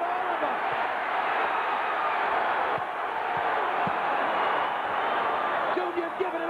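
A boxing crowd at Madison Square Garden in New York roars steadily during a heavyweight fight, a dense continuous wall of cheering that stays loud throughout under a ringside commentator's talk.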